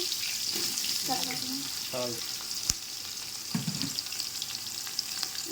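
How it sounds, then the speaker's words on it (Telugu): Green chillies and long-sliced onions frying in a pan for Andhra-style tiger prawn pulao, a steady sizzle with a sharp clack near the middle and faint voice-like tones early on. "పచ్చిమిర్చి అందుకు ఉల్లిపాయలు వేసుకున్నాం అండి పొడవుగా కట్ చేసి"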